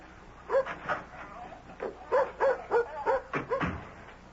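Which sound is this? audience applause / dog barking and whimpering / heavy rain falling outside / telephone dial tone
dog barking and whimpering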